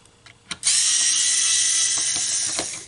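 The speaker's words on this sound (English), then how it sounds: "To remove the speaker is 2 screws." An electric screwdriver backs out the two screws holding the speaker plate in an adapted Rollin Rovee toy. A couple of light clicks lead into a loud, steady, high whir that runs close up for over two seconds.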